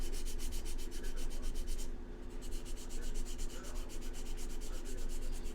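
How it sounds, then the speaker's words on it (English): Bondo filler on an AMT USS Enterprise model kit is sanded by hand in quick, steady back-and-forth strokes, a close, dry, gritty rasp repeating evenly with one brief pause. "we're either doing wood or we're doing sanding of Bondo"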